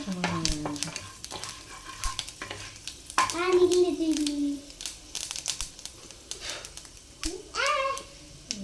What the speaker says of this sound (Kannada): ಇದೆಲ್ಲ ಸ್ವಲ್ಪ ಚೆನ್ನಾಗಿ ಫ್ರೈ ಆಗಿ ಗಮ್ಮಂತಿದೆಯಾ?